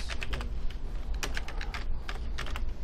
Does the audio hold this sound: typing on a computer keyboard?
yes